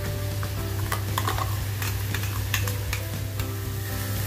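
A spice paste for garlic methi fries in a pan, with a steady close sizzle and repeated scraping strokes of a spoon stirring through it.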